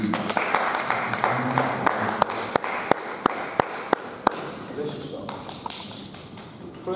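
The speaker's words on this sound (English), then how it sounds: "A few round of applause as he comes to you." Scattered hand claps from a church congregation welcoming the pastor, spaced like a slow, thin round of applause over steady voices and room murmur.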